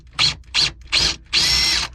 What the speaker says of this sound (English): I just want to hold it all back in proper alignment while I drill through to put in the lag bolts